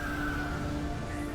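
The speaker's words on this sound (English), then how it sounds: "Oh, there's birds. I can kill the birds." Birds cawing in the Final Fantasy XIV video game, a faint harsh call or two over a murky background of game ambience.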